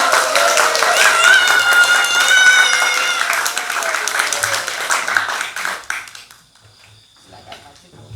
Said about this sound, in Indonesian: Kurang keras tepuk tangannya.